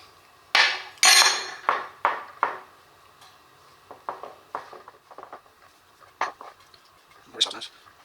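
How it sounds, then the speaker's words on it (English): Dry ingredients for fried chicken strips, with flour, stirred in a bowl: a run of loud utensil clinks and scrapes against the bowl, then quieter, irregular knocks and scrapes that keep going. "So I'll just mix all the dry ingredients in here"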